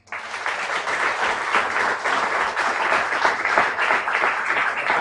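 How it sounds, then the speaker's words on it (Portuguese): A church congregation claps together in sustained, dense applause that starts abruptly and holds at a loud, even level for the whole stretch. "Então louve o Senhor com suas palmas."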